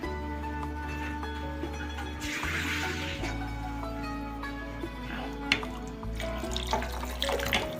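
Water runs and splashes steadily into a cooking pot close by, with faint clinks and kitchen sounds in the background.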